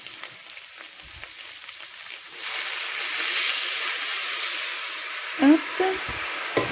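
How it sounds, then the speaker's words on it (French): Chicken escalopes in a pan are deglazed with white wine, a sudden loud hiss and sizzle erupting midway and continuing steadily up close, with a brief spoken word near the end. "je les enlève et je viens déglacer au vin blanc"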